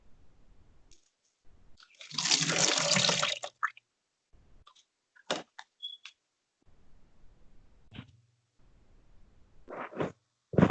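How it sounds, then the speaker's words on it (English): Water poured into a plastic container, a burst of bright splashing lasting about a second and a half amid quiet, followed by scattered clicks, knocks and small handling noises in a hushed room. "Trying to be quiet and then like poured water in like a plastic container."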